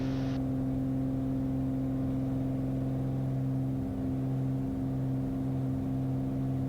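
Aircraft engines on the takeoff roll at Boeing Field, a steady loud droning hum with strong low tonal bands, heard from inside the cabin and holding constant power.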